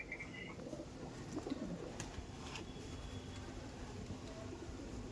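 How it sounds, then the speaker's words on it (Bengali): Giribaz pigeons in a loft give soft, low cooing with a few brief bird calls, steady and fairly close over a constant background hum. "এটা একটা গিরিবাজ পায়রা দেখাচ্ছি"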